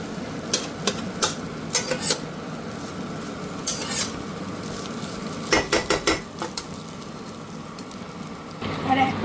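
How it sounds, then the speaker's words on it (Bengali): Instant Maggi noodles stir-fried chowmein-style with Maggi masala in a pan, with intermittent scraping and clinking of a spatula against the pan over a low sizzle, bursts of stirring spaced through the scene. "ইনস্ট্যান্ট ম্যাগি বানালে আমি ম্যাগি মশলা দিয়েই একটু চাউমিনের মতো ভেজে দিচ্ছি"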